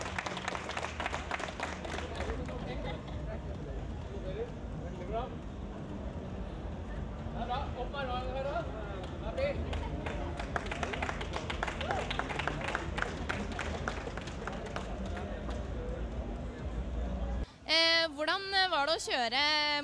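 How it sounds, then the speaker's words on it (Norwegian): Broad applause and clapping from a crowd at a Gran Turismo 5 racing contest, dense and steady for most of the stretch before a voice cuts in at the end. "Stor applaus."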